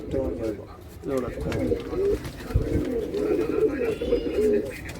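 Racing pigeons give repeated low, throaty coos up close, phrases rising and falling in a continuous rolling chorus with soft background noise underneath.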